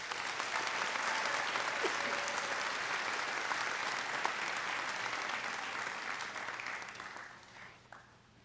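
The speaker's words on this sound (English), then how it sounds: "let's just give her a round of applause" Applause from an audience at a high school senior awards night: a steady, moderately distant clatter of many hands that thins out and fades near the end.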